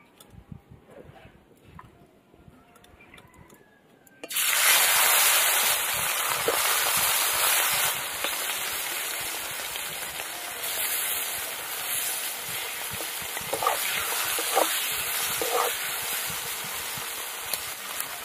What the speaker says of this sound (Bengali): এই যে মাছ ভাজা হয়ে গেছে,